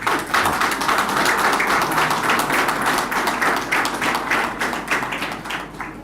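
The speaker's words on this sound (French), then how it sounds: "Vous pouvez l'applaudir." An audience at a New Year's greetings ceremony at the Ministry of Overseas France in Paris applauds Miss France, a steady, close and fairly loud patter of many hands clapping that thins slightly toward the end.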